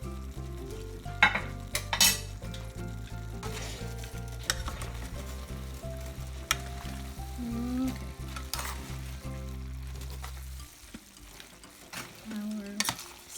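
Sweet potato noodles with chicken and vegetables tossed in a pan, a continuous close sizzle broken by clinks and scrapes of utensil against metal, with a steady background drone under it and no talking.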